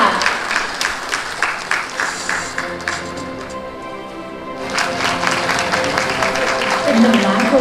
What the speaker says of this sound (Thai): ขอเสียงปรบมือด้วยค่ะ